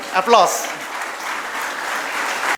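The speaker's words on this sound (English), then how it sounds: "let's Clap for all the professors who are standing and all the faculty members" A graduation audience at Sahyadri College of Engineering and Management applauds the standing professors and faculty, steady dense clapping that follows a brief spoken phrase and runs to an abrupt cut.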